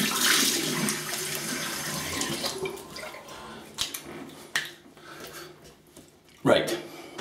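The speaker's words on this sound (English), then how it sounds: "So let's rinse the face with cold water." Tap water runs and splashes as a face is rinsed with cold water during a shave, an opening gush followed by scattered splashes, with someone talking over it.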